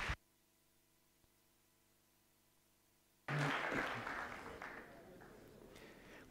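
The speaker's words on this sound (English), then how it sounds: "Big warm round of applause." Audience applause for a university-style technical talk on software engineering, bursting in suddenly after three seconds of near silence and continuing loud and dense, slowly thinning toward the end.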